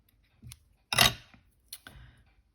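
A sharp close snip of scissors cutting through doubled sewing thread, with a couple of softer clicks of the blades before and after, quiet and with no talking.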